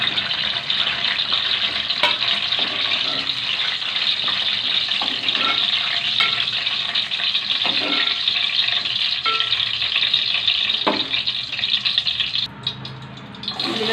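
Small brinjals fry in hot oil with a loud, dense, continuous sizzle and crackle that runs unbroken throughout.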